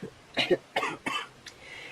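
Three or four harsh chest coughs from someone sick, in quick succession, close and fairly loud, with a short pause between each and a faint rasp trailing off.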